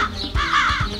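A crow caws in a Hindi moral story for children, two or three harsh close calls in quick succession over a soft background.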